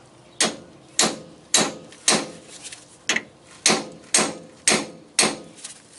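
Ten sharp metallic hammer strikes land on a hydraulic cylinder at a steady, slightly uneven pace, each ringing briefly before the next blow, close and fairly loud.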